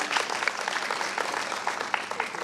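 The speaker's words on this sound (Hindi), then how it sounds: "भरपूर तालियाँ होनी चाहिए जिनके लिए।" A crowd applauds steadily at a wheelchair distribution ceremony, dense clapping filling the space at moderate loudness with no break.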